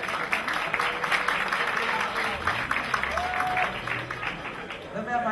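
Steady applause fills a crowded hall at an international beauty pageant evening, with music tones and voices mixed in beneath the clapping throughout.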